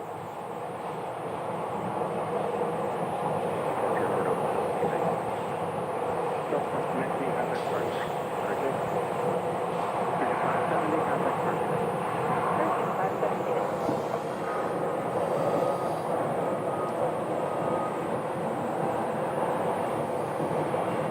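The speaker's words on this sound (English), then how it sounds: "this flight is an A321. It is headed to Toronto" An Airbus A321 airliner on runway 25 right at Sky Harbor airport rumbles and roars steadily at a distance, a sustained broadband jet noise with people talking throughout.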